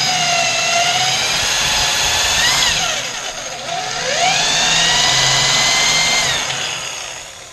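A power drill with a step bit bores into the front subframe of a Jaguar MKII. Its loud whine holds steady, dips as the bit bogs down, and climbs back up through two long bursts with no talking.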